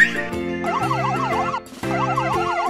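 Ambulance siren on a patient-transport ambulance: a loud, close electronic warble that sweeps rapidly up and down in repeated cycles, breaking off briefly midway before resuming.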